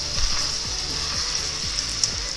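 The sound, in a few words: bone-in cowboy ribeye steak searing in a hot grill skillet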